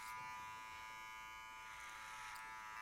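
Electric hair clipper buzzing continuously during a skin fade haircut, a steady faint hum without pauses.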